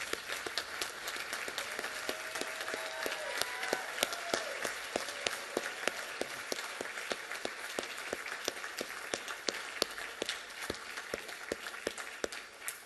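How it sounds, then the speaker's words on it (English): A standing audience in an auditorium applauds award recipients, sharp individual claps blending into a long, steady, moderately distant ovation with a faint whistle-like tone early on. "give one more round of applause to our 2021 Golden"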